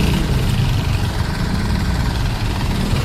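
A motorcycle tricycle with a sidecar idles on a street, its engine giving a loud, steady, low rumble that runs unbroken with no talk.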